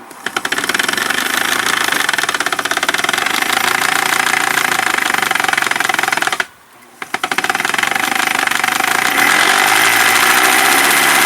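Elna Supermatic sewing machine running fast with a flat-spotted rubber pulley, a loud, close, continuous mechanical whir with a rapid rhythmic thumping that briefly stops and then resumes.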